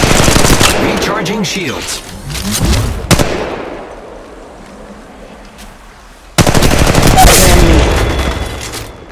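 Rapid automatic gunfire in the mobile battle royale Apex Legends Mobile comes in loud bursts, cuts off briefly, then returns in a dense close volley, with a voice speaking between the bursts.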